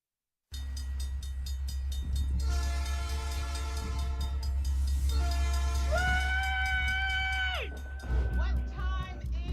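A train rumbles past as a radio sound effect, with a loud steady roar and rail clatter, then a long two-toned train horn blasts near the end before cutting off.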